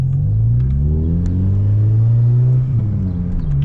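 A car with a 1.2 engine and a new aftermarket exhaust revs up with a loud, rising engine drone that dips briefly, as if shifting gears, then carries on close by with no talking.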